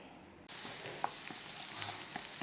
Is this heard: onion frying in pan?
yes